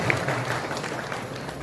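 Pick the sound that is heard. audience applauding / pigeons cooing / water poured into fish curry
audience applauding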